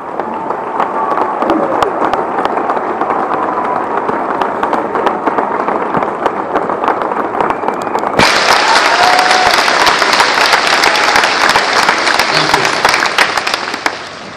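Sustained applause from a graduation ceremony audience at Fond du Lac High School's 2014 commencement, steady and dense throughout and swelling louder partway through as more people join in.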